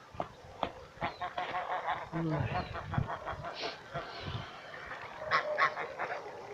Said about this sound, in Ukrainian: Гуси, гуси!